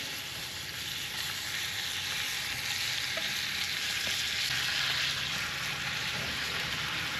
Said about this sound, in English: I'm going to grill up some of this French bread for our sandwiches